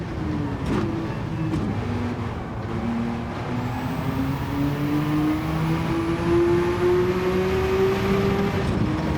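A Porsche 962C race car engine in Gran Turismo 7 holds a steady, loud drone that climbs gradually in pitch as it accelerates, with a couple of brief clicks early on and no voices over it.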